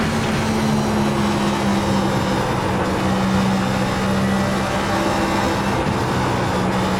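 A NASCAR Next Gen Cup car in iRacing at full throttle, a steady, loud engine drone holding a constant pitch throughout with no talk over it.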